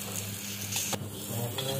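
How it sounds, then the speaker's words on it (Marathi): Green chillies and tomatoes roasting in a pan give a soft, steady sizzle with faint crackles, low in level and heard alone. "मिरची आणि टोमॅटो भाजून घेऊया."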